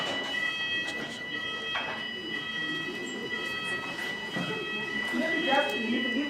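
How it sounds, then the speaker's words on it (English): An alarm goes off during a conference session, its steady, high electronic tone ringing continuously over room noise and faint indistinct voices. "There is just that alarm."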